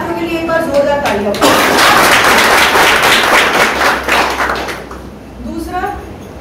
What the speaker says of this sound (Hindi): तो पहले तो आप सभी साथियों के लिए एक बार जोरदार तालियों